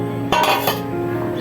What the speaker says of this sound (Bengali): তো এখন আমগুলো আমি ভালো করে চটকিয়ে নেব।